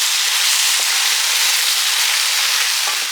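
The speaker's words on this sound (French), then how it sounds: "je laisse les oignons cuire avec les aubergines pendant encore quelques minutes" Onions cooking with aubergines in olive oil in a pan, a loud, dense, continuous sizzle close up, with a few brief stirring bumps and no talking.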